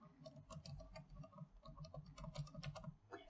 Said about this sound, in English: One is typing,